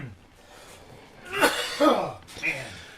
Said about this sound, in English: you're fucking coughing your lungs out